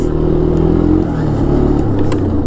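A 1983 Yamaha Tri-Moto 200 three-wheeler engine revs loud and close, a steady buzzing drone that dips slightly midway and carries on without any voices.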